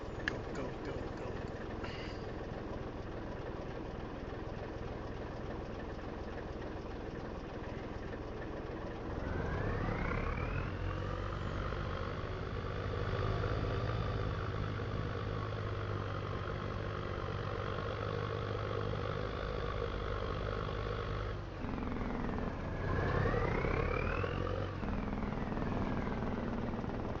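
The TLX vehicle's engine in Farming Simulator 25 idles faintly, then revs up around the ten-second mark into a steady drone, dips briefly, and rises again with a whining pitch swing near the end.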